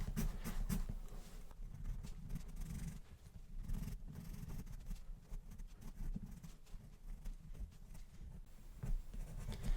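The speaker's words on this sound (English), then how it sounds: "Again, just digging the pencil in." Pencil sketching a tree on paper, with the graphite dug in hard for dark shading, gives steady close scratchy strokes in rapid repeated bursts, faint and intimate, with no talk.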